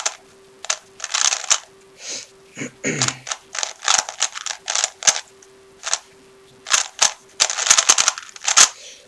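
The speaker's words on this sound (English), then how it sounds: "The only problem with this cube is that it pops" Speed cube puzzle pieces clatter and pop out, producing rapid sharp plastic clicks and snaps in irregular bursts, loud and close throughout with no speech over them.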